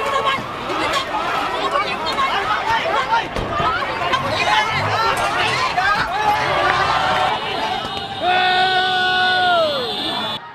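Crowd of anti-coup protesters at a rally in Thailand, loud dense chatter, shouts and yells close around, with excited whoops and raised voices near the end.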